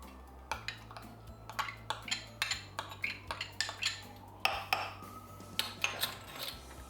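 A metal spoon scoops stone-ground and yellow mustard into a container, making a run of close clinks and scrapes that come in a fairly steady rhythm of light taps against the sides.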